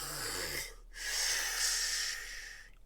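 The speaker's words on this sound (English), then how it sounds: "The sound of breath becomes very loud" Heavy, labored scuba-style breathing through a regulator, loud and close, with two long rasping breaths separated by a brief pause and no talking.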